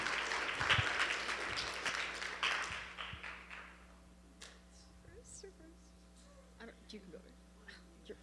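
A banquet audience at a Christian academy sports banquet applauds the girls varsity team. Loud, dense clapping fills the first four seconds, then fades to a quiet room with scattered claps and light murmur.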